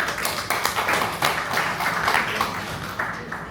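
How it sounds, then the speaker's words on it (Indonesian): An audience applauds at a business talk, a burst of close, dense clapping that carries on steadily for a few seconds. "tepuk tangan dulu"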